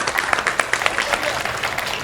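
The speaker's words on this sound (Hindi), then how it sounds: "एक बार दोनों हाथ आकाश में खोलिए, वाह, और तालियों में तब्दील कर दीजिए।" Steady audience applause fills a Hindi comedy poetry gathering (hasya kavi sammelan), many hands clapping together in a continuous, fairly loud wash with no break.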